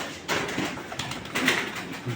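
Soft, low cooing from a racing pigeon, a few short murmuring coos close by and fairly faint, with no other sounds over them.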